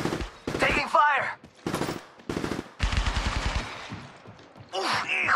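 Apex Legends Mobile gunfire, played on a Samsung A70 phone, comes as loud, close bursts of rapid automatic fire broken by brief gaps, with a final burst near the end.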